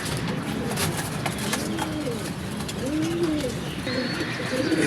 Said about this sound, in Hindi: चार कबूतर हो गए।